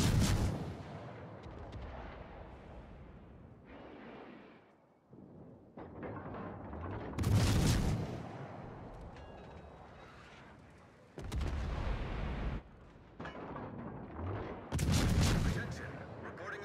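Warship guns in a naval strategy game boom repeatedly in heavy, irregular bursts with rumbling tails between shots, and a voice speaks briefly among the blasts.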